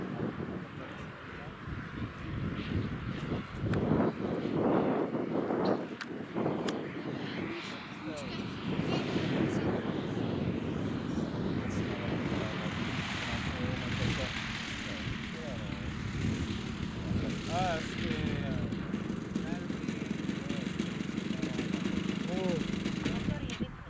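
A model airplane coming in to land, its propeller engine droning steadily with some wind noise throughout, rising slightly in the middle as it passes, while people talk nearby.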